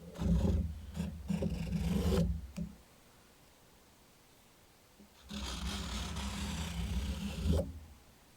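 A stick scrapes wet acrylic paint off a canvas in a three-color Dutch pour, two rough rasping strokes close up separated by a quiet pause, the first about two seconds long and the second around three seconds.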